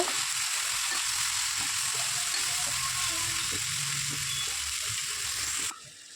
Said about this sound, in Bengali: তেলের মধ্যে আমি আলু দিলাম পেঁয়াজ দিলাম কাঁচা লঙ্কা দিলাম শুকনো লঙ্কা দিলাম এরপর আলুটা আমি পাঁচ মিনিটের মতন ভেজে নেব